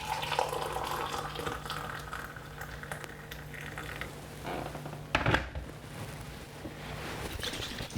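Hot water from a kettle poured into a cup, a bubbling, gurgling liquid stream at moderate level with a brief louder splash and knock near the end, no talk.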